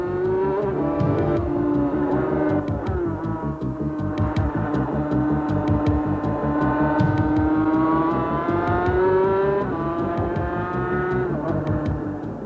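A 1992 FIM Sidecar World Championship racing outfit, heard onboard, its engine droning loud and close without pause, pitch rising and falling through gear changes and acceleration.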